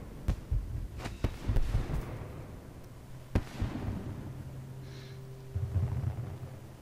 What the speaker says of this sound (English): Nice view the fireworks.